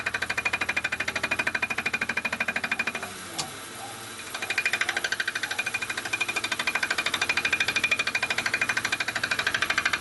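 A flycutter milling metal on a finer feed pass gives a fast, steady rhythmic chatter. It pauses briefly near the middle with a single sharp knock, then resumes at the same even pace, loud and close.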